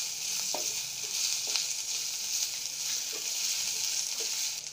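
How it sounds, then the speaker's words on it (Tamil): Ginger garlic paste frying in a pan while being stirred, a continuous soft sizzle with occasional scraping strokes of a spoon, close and steady, no voices. "இஞ்சி பூண்டு பேஸ்ட் போட்டோன்னே நல்லா ஒரு நல்லா கிளறிக்கிட்டே இருக்கணும்."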